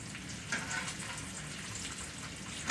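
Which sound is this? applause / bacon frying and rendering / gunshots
bacon frying and rendering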